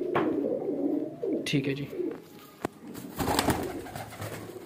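Breeder pigeons coo in soft, rolling low notes at close range, broken by a sharp knock midway, while someone speaks briefly over them.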